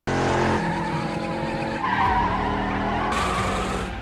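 Car tires skidding and squealing in a Fast and Furious 8 chase scene, loud continuous screeching under roaring engine tones lasting the full four seconds, alone without speech.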